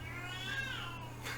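A pet cat gives a single faint, drawn-out meow over a steady low hum indoors.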